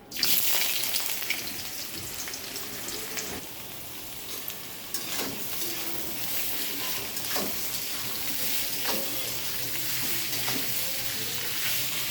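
Chopped onion hits hot oil with whole cloves and cardamom, producing a steady, close sizzle and hiss that holds throughout, with occasional light stirring clinks.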